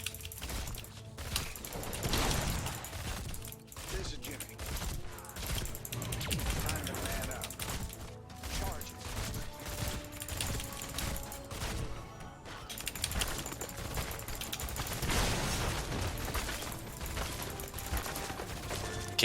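Jim Raynor fires rapid basic-attack gunshots in Heroes of the Storm, bursts of clattering gunfire and impacts over game effects, with someone talking over much of it.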